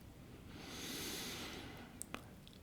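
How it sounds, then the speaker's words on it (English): A single deep breath drawn in and released as a slow, audible vocal exhale, close and soft, swelling then fading, with no talking. "take 3 deep breaths with a vocal exhale"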